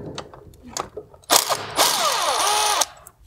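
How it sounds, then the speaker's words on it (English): A hand ratchet clicks in short bursts, then a quicker power ratchet whirs as it spins a 10 mm bolt off the back of a 1.8T engine near the valve cover, close up and fairly quiet. "So I'm gonna take this 10 millimeter off back here."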